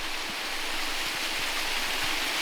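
A small waterfall about six feet tall in a forest stream at Loyalsock State Forest gives a steady, close hiss of falling water, with faint low splashes now and then.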